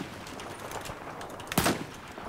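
A single rifle shot in the video game Battlefield 4, a sharp loud crack about two thirds of the way through, over a steady bed of game background noise.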